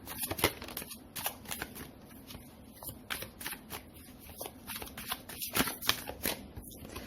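Lenormand cards being shuffled by hand for a tarot reading, a close run of crisp riffling flutters and slaps in irregular bursts, with no voice over them.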